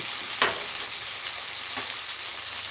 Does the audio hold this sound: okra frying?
yes